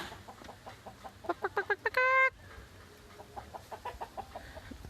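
Chickens cluck in quick, soft bursts, building to a louder squawk, then settling back into scattered clucking at a moderate distance.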